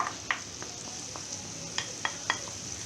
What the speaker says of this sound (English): we're going to give it a good fry